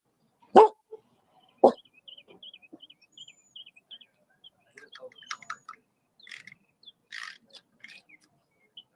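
A dog barks twice sharply, nearby and loud, then quieter chirps and small noises follow with gaps of silence.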